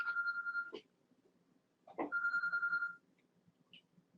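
Mobile phone ringtone going off during an online webinar, two bursts of a bright electronic trill separated by a short pause, moderately loud and alone.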